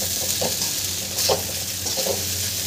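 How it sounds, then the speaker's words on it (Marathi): Soaked sabudana stirred with peanut powder in a pan for sabudana khichdi, a soft steady sizzle with a few close scraping strokes of the spoon, no voices. "आता याला छान मिक्स करून घ्यायचं आहे."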